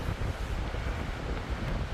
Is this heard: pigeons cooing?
no